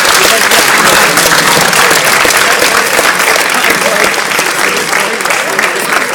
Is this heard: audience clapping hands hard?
yes